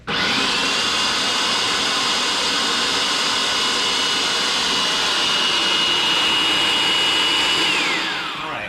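A loud, steady electric mixer blending chocolate torte cake batter whirs continuously at high speed, a high whine holding constant before winding down at the very end.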